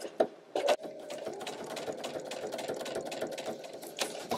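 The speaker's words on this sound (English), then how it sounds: "we're going to do 1/4 inch seam allowance, and we're going to stop 1/4 inch from the corner" A sewing machine stitches a quarter-inch seam along quilt binding, its steady mechanical whir running continuously and close, with a few sharp clicks near the start and no talk over it.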